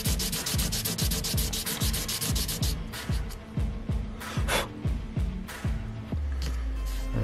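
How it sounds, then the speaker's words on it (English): Close-up hand sanding of a handmade flat metal wedding band at the final stage, a steady rhythmic back-and-forth rasp of strokes that slows and then stops near the end. "This is the final sanding stage."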